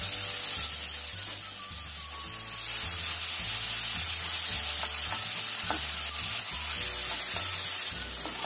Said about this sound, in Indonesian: Kita masukkan bawang putih, bumbunya, daun bawang. Ini kita masukin garam, terus kita tumis sampai tercium enak.